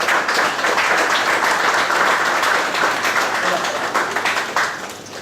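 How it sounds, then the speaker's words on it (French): An audience claps steadily at a French-speaking award ceremony honoring a silver medal recipient, dense sustained applause filling the room throughout before easing slightly near the end. "On peut l'applaudir plus que ça,"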